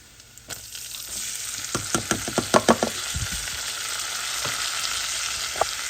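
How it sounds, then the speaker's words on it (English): Bacon sizzles and fries in a pan, a bright steady hiss with a run of louder crackles and scraping stir strokes in the middle. "Now that our bacon looks like this, we're gonna add these back in."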